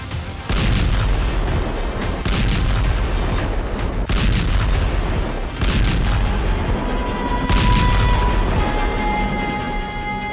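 Continuous heavy booms and rumbling blasts from Israeli bombardment in Syria, loud and dense with repeated impacts layered over a constant roar, no pause across the stretch.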